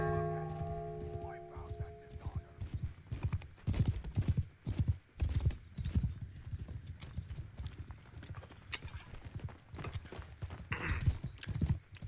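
Galloping horse hooves clatter in a rapid, uneven clip-clop rhythm during a battle in a NATO versus VK match in a video game, with scattered combat noise around them and a brief whinny.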